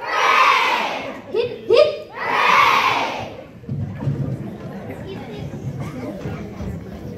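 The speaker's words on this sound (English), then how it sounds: "For our friend Rover, let's all give a cheer" A crowd of voices shouts "hip hip hooray" for a friend named Rover: loud group cheers rise and fall in bursts, followed by softer, scattered chatter and murmuring from the group.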